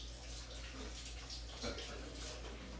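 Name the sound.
running water from tap while washing hands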